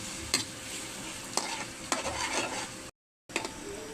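Hotdogs stir-fried in a pan, with a steady sizzle broken by several sharp scraping stirs and a brief silent gap near the end.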